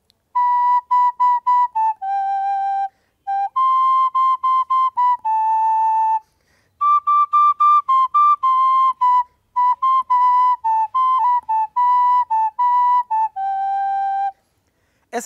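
Flute playing the Honduran folk song Sensible Despedida, a clear solo melody of short separated notes and a few held tones with brief pauses between phrases, close and loud with no accompaniment or talk.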